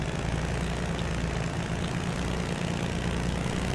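A vehicle engine in the Unreal Engine 5 Chaos vehicles sample game drones steadily. The dense, continuous rumble holds at a constant level without talk.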